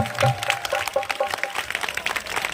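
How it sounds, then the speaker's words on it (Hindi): Audience applause welcoming the Maharaj at a religious katha gathering, a dense crowd clapping steadily at close range, with a voice briefly audible at the start. "एक बार महाराज जी के स्वागत में इतनी जोर से ताली बजाओ पूरे प्रताप नगर में आवाज पहुंच जाए"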